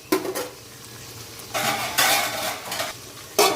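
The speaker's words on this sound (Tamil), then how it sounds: "வெயிட் பண்ணுவோம், மூடி வச்சு வேக வைப்போம்" A pot of dry prawn semi gravy gets covered with a lid, a few metallic clanks and scrapes of cookware over a faint simmer.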